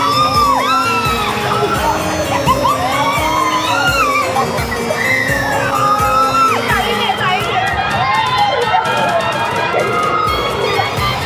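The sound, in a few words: people screaming on a fair ride at Prabhadevi Jatra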